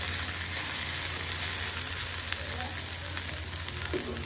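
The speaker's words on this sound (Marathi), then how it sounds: "ह्या भेंडीला असंच मीडियम फ्लेमवर थोडा वेळ शिजवून घ्यायचा आहे" Okra cooks in a pan over a medium flame, giving a soft, steady sizzle with faint stirring ticks, quiet and alone.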